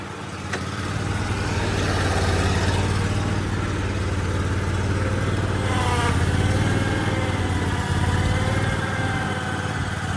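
A zero-turn riding lawn mower engine runs at throttle outdoors, a loud, steady, close engine drone that swells slightly partway through.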